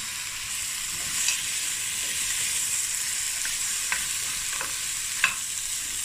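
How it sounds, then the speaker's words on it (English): Meat browns in a pan for a green bean stew, a steady bright sizzle and fry with occasional small pops and stirring clicks, close and continuous. "So now we're going to just brown the meat and let it braise for about 15 minutes."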